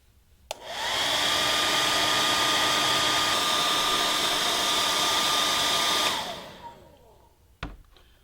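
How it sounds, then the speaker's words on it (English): A hair dryer used as a heat gun on a PTFE (Teflon) seam switches on and blows with a steady, loud whine for about five seconds, then spins down and clicks off. "Using the hairdryer heat gun again, heat the seam for 10 to 20 seconds."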